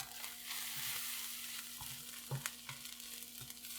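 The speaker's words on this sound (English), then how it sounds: "Let's give that a quick stir." Cumin and chili powder are stirred in a hot, sizzling pan, with a steady faint frying hiss and a few soft scraping strokes of the spoon, quiet and with no voices.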